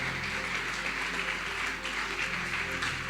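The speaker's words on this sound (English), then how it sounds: "Please give her a round of applause." Sustained audience applause at a closing ceremony, a dense steady wash of clapping held at even loudness for the full stretch, with no voices rising above it.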